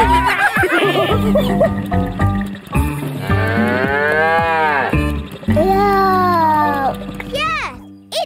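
Cattle moo loudly and close by at a cattle grid, several drawn-out calls in a row, mixed with a voice and other chatter.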